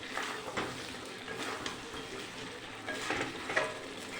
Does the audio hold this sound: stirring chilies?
yes